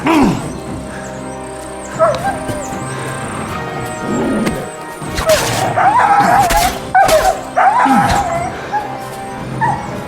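A dog in Kingdom Come: Deliverance II yips, whimpers and barks in short uneven bursts near the listener, over quiet game ambience.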